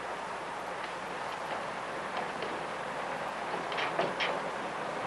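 Continuous rumbling rush of a train moving along the rails, with faint clicks and rattles in the steady noise.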